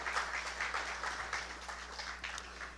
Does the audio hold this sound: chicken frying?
no